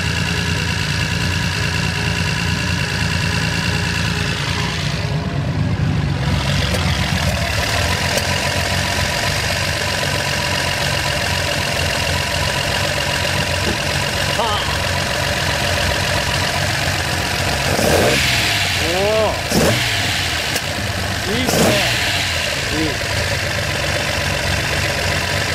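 Datsun 240Z / Nissan Fairlady Z engine idling steadily up close, a loud, even mechanical rumble with a lumpy, slightly knocking pulse, holding for a long stretch with faint brief clicks and squeaks near the end.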